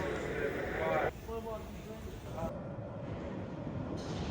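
A London Underground train pulls into a station platform, giving a steady rumbling roar with metallic squealing, close and fairly loud, with a brief shift partway through.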